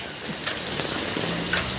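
Steady rain keeps falling outdoors in a soft, even hiss, with a few scattered drops standing out faintly against the wash of sound.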